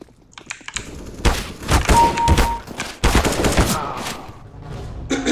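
Rapid gunfire and headshot hits in the CS:GO video game, a dense burst of sharp shots crowding the middle of the clip, with a brief tonal game cue and no speech.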